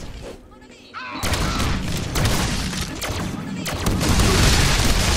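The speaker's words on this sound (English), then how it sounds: "Ooh, fireworks!" Fireworks burst in the Deadpool video game as a dense run of booms and crackling blasts that begin after a brief quiet moment, loud and continuous and building toward the end.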